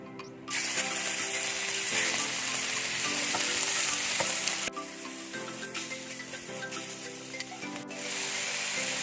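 Chicken pieces frying in a hot pan while a chicken quesadilla is being prepared, giving a loud, steady sizzle with clattering stirs and scrapes. The sound breaks off briefly twice, and no one speaks.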